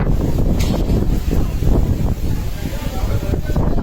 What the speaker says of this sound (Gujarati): ઓહો, બહુ પવન આવે છે.